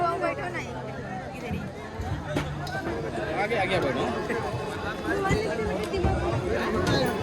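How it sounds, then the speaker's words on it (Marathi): Dense crowd of devotees at a Ganpati festival, a continuous hubbub of overlapping chatter and voices, close and steady throughout with scattered louder shouts. "इथं पण गर्दी आहे ना, इथं बी गर्दी आहे."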